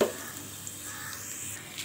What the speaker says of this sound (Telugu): ఇది వేపుకుందాం. ఇది వేగిపోతుంది.